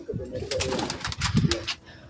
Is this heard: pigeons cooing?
yes